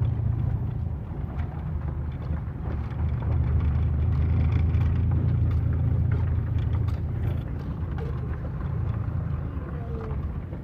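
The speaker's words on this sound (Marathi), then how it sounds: "दादा गाडी पुढे घेणार कुठं लावायची?" A car being driven gives off a continuous low engine rumble with a rough, even texture that holds steady at moderate loudness for the whole stretch.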